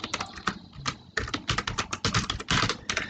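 A computer keyboard is typed on close by while input is entered for a Python program, giving quick, irregular clusters of crisp key clicks with short pauses between bursts.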